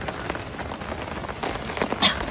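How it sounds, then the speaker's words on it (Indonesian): Steady rain patters on a camping tent in a valley, a dense continuous hiss of drops with occasional louder splats close by, no talk. "Maaf kalau berisik soalnya lagi hujan juga"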